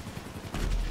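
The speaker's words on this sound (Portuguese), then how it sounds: "foi dois tiros seguidos ali" Muffled gunfire in GTA V Online cracks out against a low, constant rumble, ending in a heavier burst.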